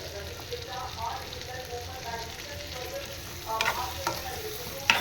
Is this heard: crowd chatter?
no